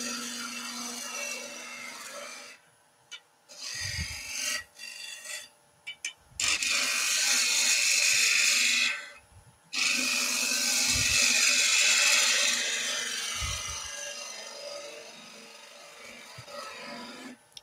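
A skew chisel cuts a half bead on spinning wood on a lathe. Loud, sustained rasping cuts are broken by brief pauses and soft low knocks, with no talking.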